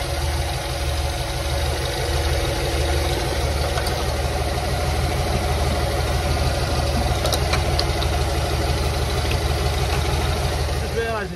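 A 1946 Chevrolet Fleetmaster engine, fed by gravity from a makeshift petrol tank, idles smoothly and steadily with an even, continuous mechanical drone that holds at a loud level throughout.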